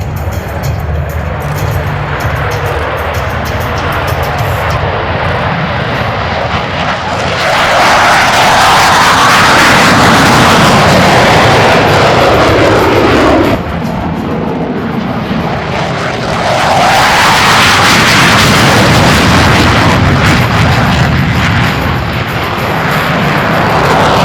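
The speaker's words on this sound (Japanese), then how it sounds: "the FA-18 Hornets will demonstrate the ability to quickly depart and climb out of a surface-to-air threat environment" F/A-18 Hornet military jets at an air show at MCAS Iwakuni take off and climb away, their loud engine roar rising in two separate surges, each building and sweeping past before the next.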